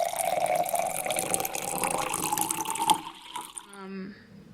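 Water running from a kitchen tap into a glass, a steady splashing rush that rises in pitch as the glass fills, ending with a brief gurgle and the flow cutting off.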